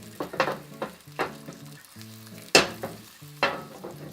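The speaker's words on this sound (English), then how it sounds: "Stir them around. I added a little too much oil, but it's fine." Vegetables frying in a pan with a little too much oil, stirred around: a steady sizzle with a few sharp utensil scrapes and clacks, while background music plays underneath.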